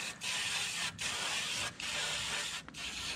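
Aerosol brake cleaner sprayed as a degreaser onto a rusted rocker panel of a Fiat Panda, in four long hissing bursts separated by brief pauses, close and steady.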